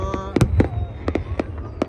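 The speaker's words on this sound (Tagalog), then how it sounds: "Start na yung ating fireworks display." Fireworks burst in a display over Khiran, Kuwait, for Liberation Day, a rapid series of sharp cracking pops, some louder and nearer, in quick irregular succession.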